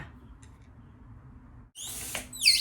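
A silver twisting balloon being inflated with a hand pump, bursts of airy hissing and squeaky rubbery stretching after a quiet stretch, ending with a sharper high squeal.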